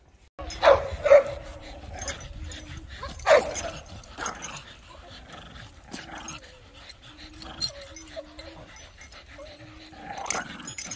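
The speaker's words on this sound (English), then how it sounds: "Beautiful dog." A dog in a kennel yard barks in several sharp bursts and whimpers between them, with steady close panting underneath and a few quieter barks toward the end.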